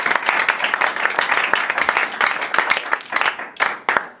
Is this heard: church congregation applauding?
yes